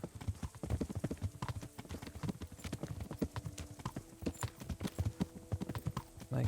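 A horse canters in Kingdom Come: Deliverance, its hooves drumming in a steady, fast, rolling rhythm of closely spaced thuds that carries on throughout, close and clear.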